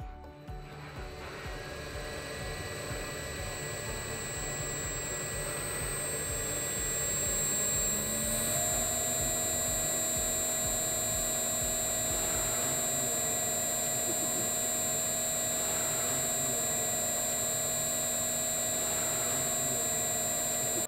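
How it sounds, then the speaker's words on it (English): An electric motor started through a Schneider Electric ATS01 soft starter ramps up smoothly over several seconds into a loud, steady whine with a sustained hum, running continuously and close by without any speech. "Give a run order to start the motor."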